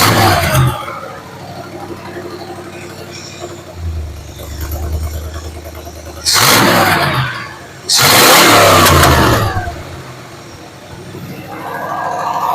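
A C4 Corvette engine idling a little high, near 1200 RPM, with a steady mid-pitched hum broken by a few louder revving swells, heard close up with a voice talking over it.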